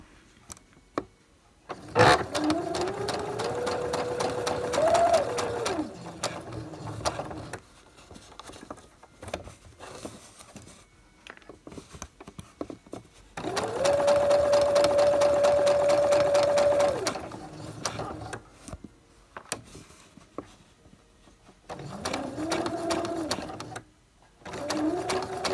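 A domestic sewing machine stitching fabric for an embroidery hoop grime guard, running in several sustained bursts with pauses between, close and steady, its motor whirring at a constant pitch.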